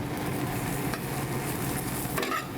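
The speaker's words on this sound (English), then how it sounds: "Your breadcrumbs. You can hear them sizzling there." Breadcrumbs fry in hot oil in a pan, giving a steady, close crackling sizzle with faint stirring scrapes. The sizzle holds throughout and no one speaks.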